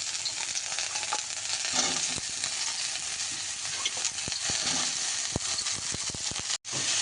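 Mushrooms and cut potatoes frying with green chillies in a pan, a steady close sizzle with scattered crackles and stirring scrapes, continuous and fairly loud throughout, no voices.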